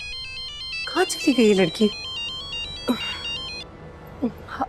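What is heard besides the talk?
phone ringtone ringing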